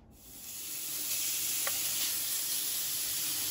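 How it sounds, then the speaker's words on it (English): Beef strips sizzle and hiss steadily in a hot frying pan after an initial burst, loud and close with no talking. "So we're instantly getting that sizzle"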